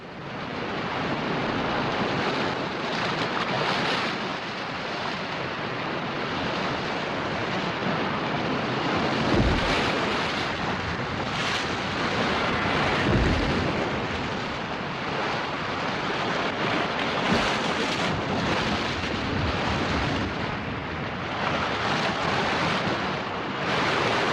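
Ocean waves wash steadily onto a Falklands shore where rockhopper penguins live, a continuous broadband roar of surf mixed with gusting wind buffeting the microphone, with no voices.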